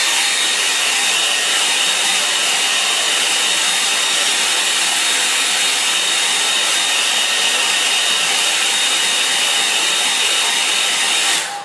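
A hair dryer blows continuously and loudly at close range, drying a wet-in-wet watercolour sky painting, a steady hissing rush of air with no talk that stops abruptly at the end.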